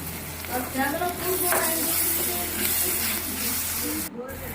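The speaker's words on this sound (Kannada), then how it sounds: "ಈರುಳ್ಳಿ ಸಾಫ್ಟ್ ಚೆನ್ನಾಗಿ ಫ್ರೈ ಮಾಡಿ ಇವಾಗ ಟೊಮೆಟೊ ಕೊತ್ತಂಬರಿ ಹಾಕಿ ಮಿಕ್ಸ್ ಮಾಡೋಣ" Chopped onion, tomato and coriander frying and stirred in a pan, a steady sizzle with scraping stir strokes throughout, with a brief gap near the end; faint voices may sit underneath.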